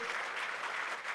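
An audience at a Sri Chaitanya Academy centre opening in Nagpur claps to welcome a guest onto the stage, a dense, even wash of applause filling the whole moment without a break.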